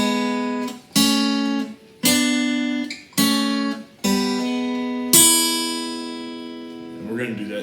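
An electric guitar plays a slow blues riff in E for beginners, six ringing strummed chords spaced about a second apart, each decaying before the next, with the last chord left to ring out alone.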